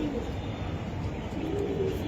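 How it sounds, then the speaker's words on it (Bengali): Pigeons at a breeding farm in Mirpur coo softly and steadily, fairly faint against a low background hum. "এই যে এই এটা আর এই যে কবুতর"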